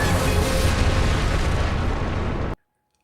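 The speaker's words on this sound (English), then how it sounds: "How the heck did they survive that dynamite explosion?" A loud, sustained dynamite explosion from a Doctor Who episode roars with a dense, rumbling blast for over two seconds before cutting abruptly to silence.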